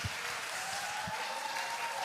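A church congregation at a prayer meeting claps together, a steady, moderately quiet rush of applause filling the hall with a few distinct claps at the start.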